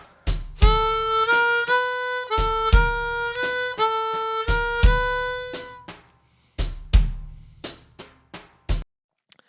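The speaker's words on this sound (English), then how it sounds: "Number 2, shuffle feel with two notes per beat." A chromatic harmonica tuned to C plays a slow E blues bouncing shuffle rhythm, chords pulsing in long-short pairs with sharp breathy attacks, then thinning to a few isolated chugs before stopping.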